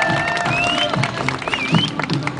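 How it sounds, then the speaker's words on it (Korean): A crowd claps at a boxing exhibition match in Sinchon, with brisk, scattered applause and a few shrill whistle-like tones cutting through the arena noise. "여러분들 박수 한번 주십시오."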